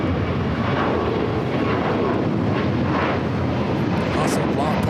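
A jet airliner taking off at Los Angeles LAX airport, a loud continuous broadband engine roar holding steady throughout, with faint talk partly buried underneath.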